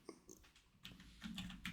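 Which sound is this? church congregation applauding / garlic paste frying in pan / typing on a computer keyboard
typing on a computer keyboard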